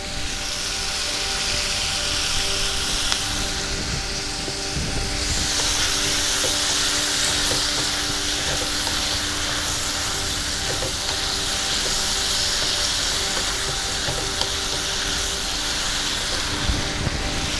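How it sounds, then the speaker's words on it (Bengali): Dark soy sauce poured into chicken frying in a pan gives a steady, close sizzling hiss that runs evenly throughout, with no voices. "এবারে আমি ডার্ক সয়া সসটা দিয়ে দিচ্ছি।"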